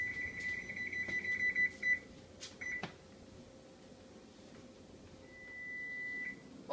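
An oven timer set for a batch of brownies gives a quick run of electronic beeps, then a couple of clicks and a final longer beep, faint and close in a quiet kitchen.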